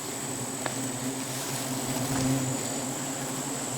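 Bees buzz around a wild nest in a forest in the cold season, a steady insect drone with a few louder passes close by, heard alone over faint background hiss.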